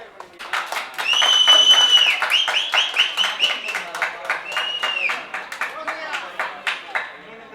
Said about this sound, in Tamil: அப்படியே எல்லாம் கைதட்டி உற்சாகப்படுத்துங்கப்பா.